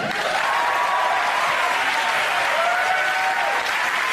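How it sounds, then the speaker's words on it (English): A television studio audience applauds loudly and continuously, a thick, steady roar of clapping with a few cheering voices mixed in. "Clap your disappointment away"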